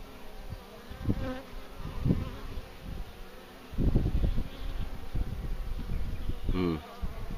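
Bees buzzing around a struggling hive, a continuous close drone with individual insects swelling past now and then, faint talk and handling noises underneath.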